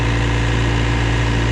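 A John Deere loader engine runs at about three-quarter throttle in cold weather to warm up, a loud, steady, close drone with a strong low hum that holds without change.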